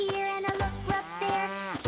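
A cow out in a farm field moos twice, long drawn-out lowing calls heard close and clear with no voices.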